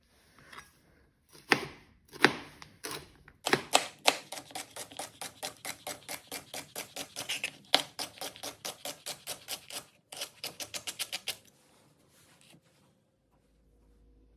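A knife chops vegetables for chicken pot pie on a cutting board, first a few separate cuts and then long, fast, even runs of close, crisp strokes, with no talking.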